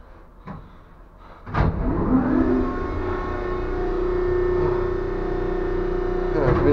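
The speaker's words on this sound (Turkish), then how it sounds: "Evet, vincimiz çalıştı." An old crane engine on a 65,000-ton mining ship cranks and starts after a few clicks, then settles into a steady loud idling drone with a tonal hum.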